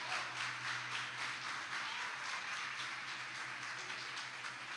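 A church congregation applauds during a sermon, a dense, even patter of many hands clapping, soft and somewhat distant, holding steady throughout without any voices.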